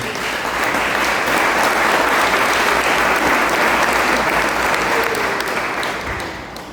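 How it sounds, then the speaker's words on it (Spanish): A church congregation breaks into loud, sustained applause for the Lord, dense clapping from many hands that holds steady for several seconds before gradually easing off. "¿Por qué no le damos un fuerte aplauso al Señor?"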